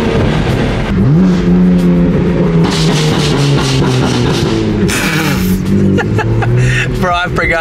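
A loud BMW E92 M3 engine revs hard and holds a deep, throaty drone, rising and falling in pitch, with people talking over it.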